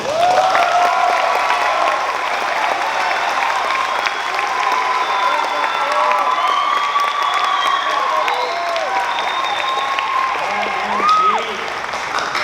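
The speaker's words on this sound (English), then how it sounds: "Give a nice round of applause to Mr. Eric Jacobson." A graduation ceremony crowd claps and cheers loudly for a guest invited on stage, dense continuous applause with whoops and young voices rising through it before ending abruptly.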